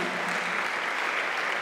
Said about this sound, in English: Can we clap our hands for Jesus tonight?